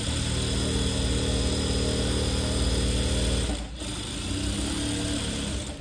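A sewing machine runs steadily while stitching along the edge of a sleeve, a continuous close mechanical hum with a brief pause in the motor partway through before the stitching resumes.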